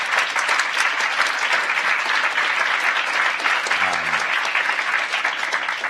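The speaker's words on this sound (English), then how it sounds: "Let's just have a round of applause for them." Dense, steady audience applause filling a room, a continuous roar of many hands clapping at even volume for about six seconds, with a brief low murmur near the middle.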